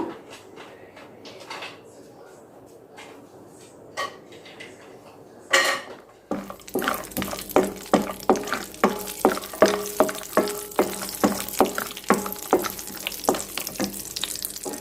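Cashew nuts fry lightly in a pan for carrot halwa; after a quiet start, a steady close sizzle begins with repeated spoon scrapes and clinks against the pan.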